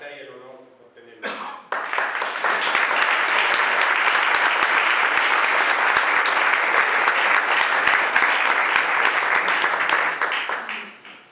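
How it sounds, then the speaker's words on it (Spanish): An audience gives a loud, sustained round of applause for Pepe Esquinas at a talk in Villaviciosa, starting abruptly after a brief voice and holding dense and even for several seconds before tapering off. "lo primero que yo quiero pedir es un fuerte aplauso para Pepe Esquina"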